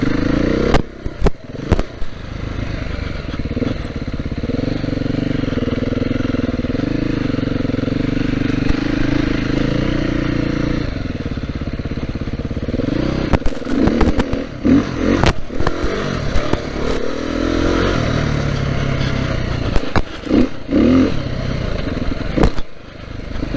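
A 2022 Beta 430 RR-S dirt bike rides off-road, its engine droning and revving up and down close to the microphone, with gear shifts, wind buffeting and brief clattering bumps over rough terrain.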